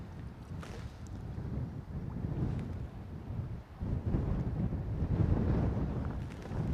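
Strong wind gusts roar and buffet the microphone on a lake during a cold, windy day of catfish fishing from a boat, a steady low rumble that swells louder toward the end, with no talking.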